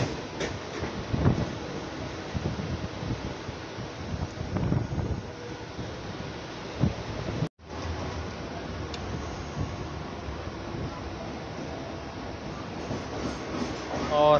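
A Mumbai local train heading toward Dadar station rumbles steadily along the tracks, heard from on board under heavy wind buffeting. There is a brief dropout midway, and then the rolling noise continues.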